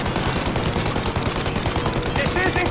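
Gunfire aimed at the engines of an aircraft in the video game Mafia: Definitive Edition, rapid continuous automatic bursts, loud and dense from start to finish.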